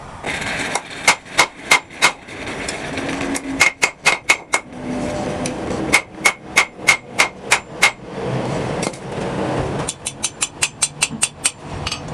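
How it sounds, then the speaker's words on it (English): A hammer strikes a Harbor Freight Doyle anvil while a leaf is forged, giving sharp, loud metallic rings in quick rhythmic bursts with short pauses between runs. "Just trying out the new anvil."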